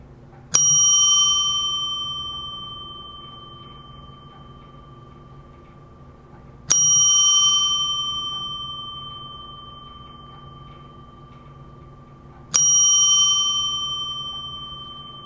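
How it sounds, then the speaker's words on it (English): A meditation bell is struck three times at slow, even intervals, each bright metallic ring sounding clearly and alone before decaying slowly toward silence. "listening to the sound of the bell 3 times, and after the 3rd time of the bell, just allowing that to fade to silence."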